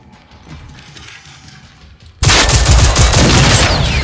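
In the video game Generation Zero, a quiet stretch suddenly gives way to loud, sustained rapid gunfire that fills the second half without a break.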